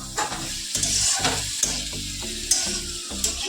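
Food sautéing in a pan on a home stove is stirred briskly with a spoon: repeated close scraping strokes over a steady sizzle, with occasional sharper clacks against the pan.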